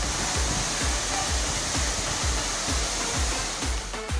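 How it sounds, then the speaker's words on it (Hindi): Water overflowing full speed from a water tank and falling like a waterfall, a loud, dense, continuous roaring rush with a steady churning pulse and no voices. "टंकी ओवरफ्लो हुई तो फुल स्पीड से पानी नीचे गिरने लगा और झरने जैसा नजारा बन गया।"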